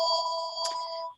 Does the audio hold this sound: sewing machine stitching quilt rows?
no